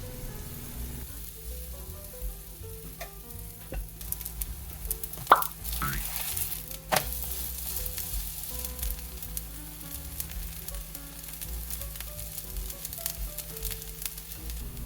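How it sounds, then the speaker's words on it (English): Green onion pancake batter frying in an oiled pan at home, a steady soft sizzle with scattered pops and plops as more batter is added, close and moderately quiet, no speech. "I'm adding more batter."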